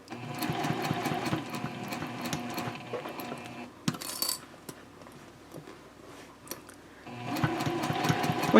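Handbag gussets are stitched on a sewing machine in steady close-up runs, which pause midway amid soft handling clicks and rustles, then the machine whirs back up near the end.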